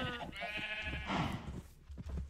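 Minecraft sheep bleat once, a close wavering cry in a video game, followed by softer game noise.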